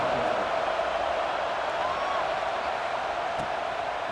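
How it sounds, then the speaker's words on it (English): Steady crowd roar fills a stadium in the College Football 26 video game during a tied fourth quarter before a kickoff, a continuous broad buzz with faint whoops and a commentator's voice talking over it. "this crowd is buzzing after that last score"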